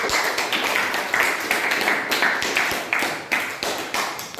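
Audience in a classroom or teacher-training session applauding together, a dense steady patter of hand claps lasting several seconds at moderate loudness, with no talk over it.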